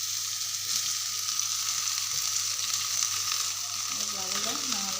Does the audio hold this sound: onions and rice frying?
yes